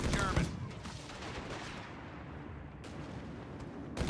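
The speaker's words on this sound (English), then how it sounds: "We're taking fire!" Gunfire and artillery in Company of Heroes 3, a dense battlefield wash of shots and booms with a louder burst at the start and again at the end, voices talking over it.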